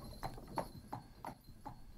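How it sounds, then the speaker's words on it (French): Horse hooves clip-clop in a slow, even rhythm, about five hollow knocks in two seconds, moderately close with no voices. "le prince prit Cendrillon sur son cheval et partit avec elle."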